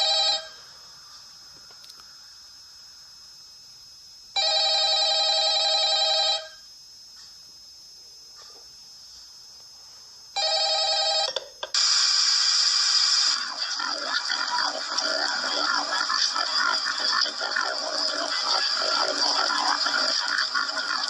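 A telephone rings in the Five Nights at Freddy's video game, repeated electronic rings in separate bursts with gaps between them, followed by a denser, continuous stretch of game sound.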